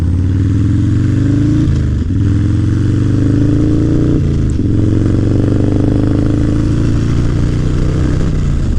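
A Harley-Davidson FXR motorcycle engine runs at very low RPM, a loud, close, steady deep rumble that dips briefly twice, with faint clatter over the lasting drone.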